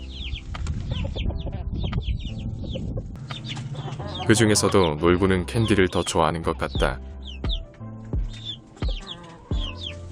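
A rooster and his hens cluck and call around a chick-rearing coop, repeated close clucks and a louder burst of squawking in the middle, heard beneath a narrating voice.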